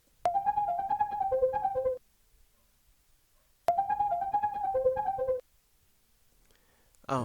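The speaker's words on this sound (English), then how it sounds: "This was actually a pad from CS80V, which I time stretched to sound like it was really fast." A time-stretched CS80V synth pad plays in fast, bright, chirping bursts, two phrases each lasting a bit under two seconds with a silent gap between them, heard clearly and alone.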